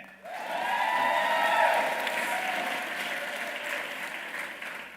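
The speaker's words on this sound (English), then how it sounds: "Round of applause for that." A graduation ceremony audience gives a round of applause, a broad swell of many hands clapping that rises quickly, peaks, then slowly tapers while continuing, heard from a slight distance in a large hall.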